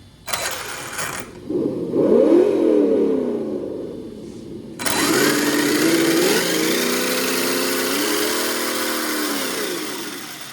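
Simulated engine sound from a speaker module on an ARRMA RC car revs as throttle is applied: a short burst, a pause, then a longer loud rev with rising and falling pitch that settles into a steady drone, no talk.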